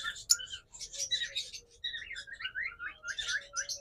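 A pair of albino red-eyed pet birds chirp close by in quick, high, twittering bursts that continue almost without pause over a quiet background.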